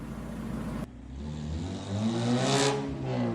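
A rear-wheel-drive, mid-engined Swift drift car engine revs loud and close, dropping briefly before climbing to a rising roar that peaks and then holds steady.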